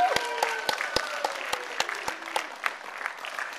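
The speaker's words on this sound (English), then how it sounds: "let's give a round of applause again for Mike Karney." A crowd applauds steadily, with sharp individual claps standing out over a sustained wash of clapping while tones ring faintly underneath.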